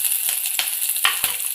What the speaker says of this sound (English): Into this mixture, I'm gonna add our chopped green chilies, and we'll just lightly toss them.